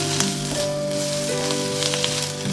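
Vegetable filling for bread toast, mixed with garam masala in a hot pan, gives a steady sizzle with a few scraping stirs, close and even, over a faint tonal hum.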